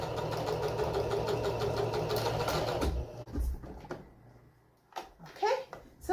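Sewing machine running steadily for about three seconds as it stitches a French seam in fabric, then stopping, followed by quiet handling noises and a few brief soft sounds.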